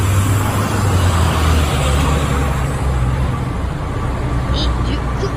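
Steady street traffic on Fifth Avenue in New York, a continuous broad wash of car, truck and bus engines with a constant low rumble and no single pass standing out, loud and close throughout.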